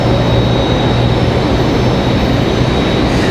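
A Frontier airliner taxiing at Raleigh-Durham airport, heard as a steady, loud broadband engine roar with a low hum, continuous and unchanging throughout.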